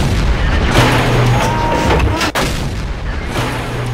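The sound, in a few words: E-25 tank cannon fire in a tank video game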